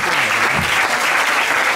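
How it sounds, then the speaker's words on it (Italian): Audience at a charity music evening breaks into brief, dense applause, a short steady burst of clapping. "vi invito a fare un altro applauso a tutti i ragazzi"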